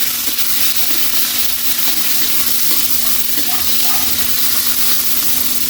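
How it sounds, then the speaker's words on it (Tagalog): Onions and tomatoes sizzle loudly in hot oil with browned garlic in a pan, a steady close frying hiss broken by occasional stirring scrapes, with no voices. "Lagay na natin yung sibuyas. Sama na natin yung kamatis."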